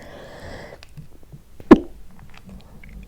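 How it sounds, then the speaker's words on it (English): A single sharp sneeze from a woman, sudden and close, bursts out of an otherwise quiet room with faint background murmur and light rustling before it. "Excuse me, I just sneezed."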